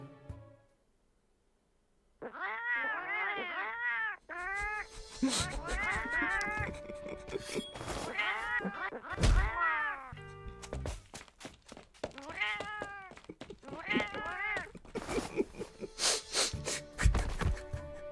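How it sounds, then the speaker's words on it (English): Cats meow again and again in a voice-acted Arknights story scene, in rapid clustered bursts of overlapping meows with occasional thumps, close and fairly loud after a brief silent opening. "So many cat sounds."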